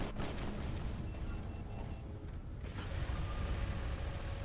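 A bomb explodes in a video game, heard as a sustained, loud, rumbling roar with a brief dip midway before it swells again, dense and continuous throughout.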